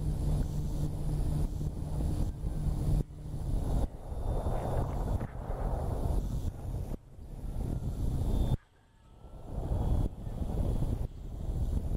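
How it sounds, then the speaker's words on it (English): Strong wind buffets the microphone at an unprepared outdoor airfield, a loud continuous roar with gusty surges and brief dips, no voices present. "So the wind is coming directly from those trees there."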